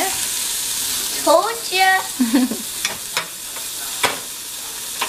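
Meat searing in a pan in a home kitchen, a continuous hissing sizzle with a few clinks and stirring knocks, close, while voices talk briefly over it.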